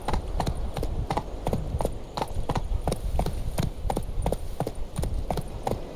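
Roach the horse gallops in The Witcher 3, steady hoofbeats clip-clopping in a quick even rhythm, close and prominent over a faint background.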